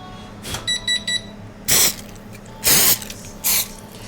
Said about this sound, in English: I bet the cooking spray would sound really cool